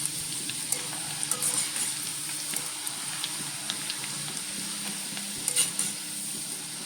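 Chopped onion and garlic fry steadily in a pan of hot oil for a jackfruit snack, a continuous close sizzle with small crackles and a few louder spits, with no talk over it.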